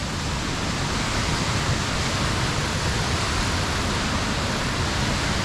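A waterfall on the Timberline Trail around Mt Hood, a loud, steady, unbroken roar of rushing water close by, with no voices.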